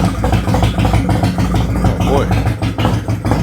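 A Harley Road Glide motorcycle that had trouble running fires up and idles with a rough, throbbing engine rumble. People talk briefly over it.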